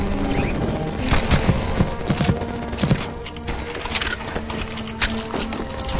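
Rapid gunfire in CS:GO Zombie Escape on the ze_tibia_v4_1 map, stage 7: dense, overlapping bursts of shots crackle steadily and fairly loudly across the whole stretch, mixed with other game noise and no talking.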